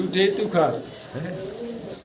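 Giribaz pigeons, two pairs, give soft rolling coos close by, a couple of throaty phrases followed by a lower trailing call.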